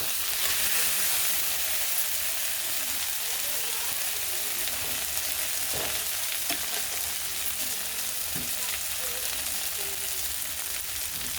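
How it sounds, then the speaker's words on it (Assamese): Fish frying in a pan for an Assamese sour fish curry, a steady broad sizzle running throughout with a few faint scrapes as a spatula turns the pieces. "আৰু এতিয়া মই খন্তিৰে অলপ পালট কৰি দিছোঁ।"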